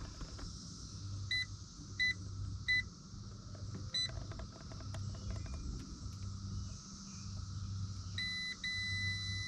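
An electrical tester gives short electronic beeps in small clusters over a low, steady hum while checking boat wiring, fairly faint, repeating a few times with pauses between.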